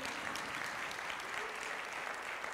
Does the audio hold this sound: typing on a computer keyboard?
no